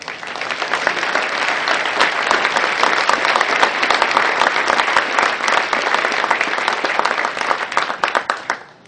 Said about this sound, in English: I please have a round of applause for Jackie and Joel.